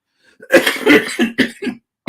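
A burst of harsh coughing, several rough coughs in quick succession, close and loud, then a short pause and one more brief cough.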